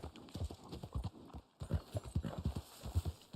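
Horse hooves clip-clop steadily in Red Dead Online, a quick even rhythm of close, fairly loud hoofbeats with a brief pause midway, set in a snowy in-game world.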